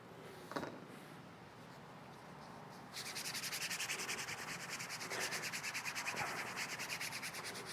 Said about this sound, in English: there's actually very minimal glue on the edges here, so it burnishes really well